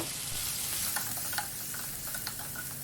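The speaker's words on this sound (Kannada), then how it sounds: "ಇದನ್ನು ಪೂರ್ತಿ ಮೆತ್ತಗಾಗೋವರೆಗೂ ನಾವು ಇದನ್ನು ಹುರ್ಕೋಬೇಕು" Capsicum frying and being stirred in hot tempering oil in a pan: a steady close sizzle with scattered scraping and stirring clicks, no voices.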